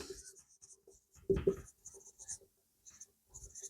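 Chalk tapping and scratching on a board during a Class 10 science lesson on concave mirrors. The strokes are quiet and short, with a slightly louder scrape in the middle.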